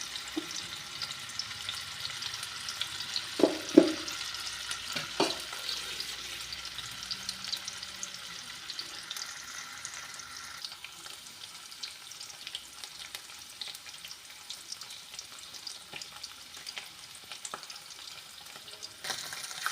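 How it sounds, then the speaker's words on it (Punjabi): Paneer fries in desi ghee in a kadhai with a continuous bright sizzle, broken early on by a couple of sharp clanks of a utensil stirring and turning the pieces. "ਪਨੀਰ ਜੀ ਆਪਣਾ ਫਰਾਈ ਹੋ ਰਿਹਾ"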